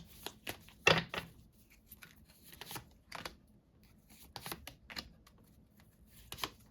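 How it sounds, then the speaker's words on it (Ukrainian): Playing cards shuffled in several quick riffling bursts with short pauses between, close and fairly quiet. "Перемішую і майже ті самі карти виходять"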